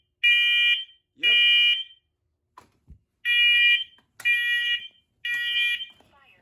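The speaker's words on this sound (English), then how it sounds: "Hopefully this one goes into alarm" A smoke alarm from a collection tested with a smoke can sounds in loud, piercing beeps in a steady on-off pattern, with a brief quiet gap and faint movement between bursts.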